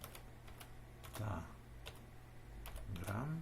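Sparse keystrokes click on a computer keyboard at an irregular pace, faint and close, while someone talks quietly over them.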